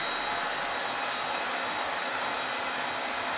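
A heat gun shrinks tubing over wiring with a steady, loud blowing whoosh that runs unbroken from start to finish, with no talking.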